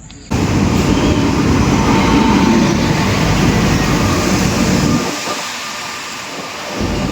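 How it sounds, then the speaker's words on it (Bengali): The Kanchankanya Express pulls into Sainthia Junction station at night, a loud continuous rumble and roar of the passing train that eases off toward the end. "আজকের ট্রেন চলে এসছে, কাঞ্চনকন্যা এক্সপ্রেস।"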